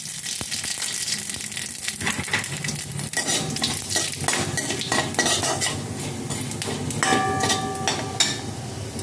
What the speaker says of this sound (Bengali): ফোড়নে দিয়ে দেব তেজপাতা, একটা শুকনো লঙ্কা, সঙ্গে দিয়ে দেব রাঁধুনি।